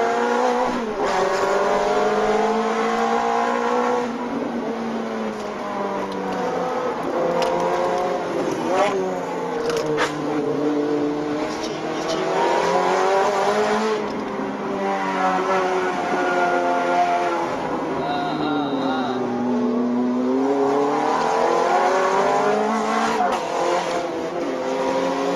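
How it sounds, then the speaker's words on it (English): Supercars racing through city streets, engines roaring and rising and falling in pitch as they accelerate, shift and pass, loud and steady throughout. "here is supercars racing around the streets"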